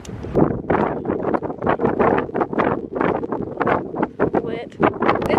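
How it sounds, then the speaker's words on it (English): Strong wind buffets the microphone outdoors beside a campfire being lit, with loud, continuous gusty rumbling and rustling, and voices talking underneath. "It's so windy."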